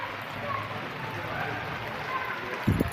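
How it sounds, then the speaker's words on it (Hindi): Heavy rain falls steadily as a dense, continuous hiss close by outdoors, pouring over and off a tarpaulin shelter, with a brief louder splash or thump near the end. "बड़ी तेज़ बारिश है भाई"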